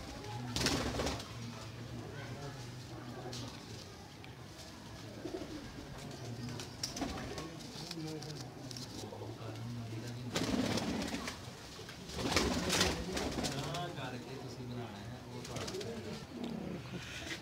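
Sialkoti and golden pigeons coo repeatedly in soft, throaty bursts, with louder calls close by and quieter cooing in the background.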